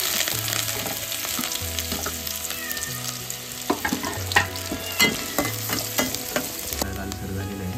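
Onion frying and sizzling in hot oil in a pan while banana flower bhaji is cooked, a steady close crackle with repeated stirring scrapes and clicks and low spoon knocks throughout.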